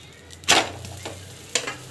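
Paratha cooking with a little oil in a pan, giving a sharp close sizzle with scraping stir sounds in two short bursts over a low steady background hum.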